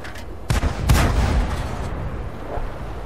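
Tank cannon fire in World of Tanks as a T67 engages an SU-85: two sharp booming shots close together, each trailing into a low rolling rumble.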